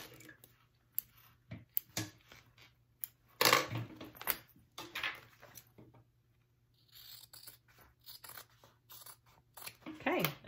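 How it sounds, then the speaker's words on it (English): Scissors trim fabric while a bag is sewn, giving several short crisp snips and crunchy cuts scattered across a quiet workspace, with a voice talking in places. "And I'm going to trim that off."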